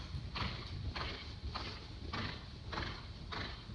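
A pony's hooves beat steadily on an arena surface during a riding lesson, a regular rhythmic pattern of soft thuds repeating every half second or so at moderate distance.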